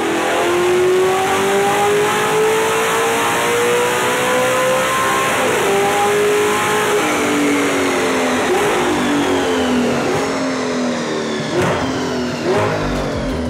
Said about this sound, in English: a dyno show with this beautiful R8 and its screaming V8 engine